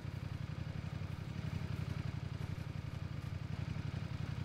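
A motorcycle engine in PUBG (PlayerUnknown's Battlegrounds) idles with a steady, rapid low rumble, loud and continuous throughout, with a faint clatter on top.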